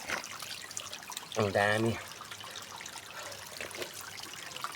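Clean, cold water trickles steadily at a spot beside Kakani temple, a soft continuous wash of running water, while a voice speaks briefly over it.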